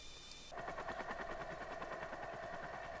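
Rapid rhythmic thudding of helicopter rotor blades in the video game The Forest begins abruptly and continues steadily over a droning engine, with a synthetic, game-like quality.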